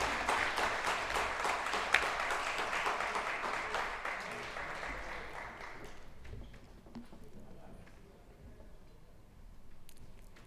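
Applause at a transgender awards ceremony, a broad dense clatter of many hands that holds steady for several seconds, then thins and fades away into a quieter room.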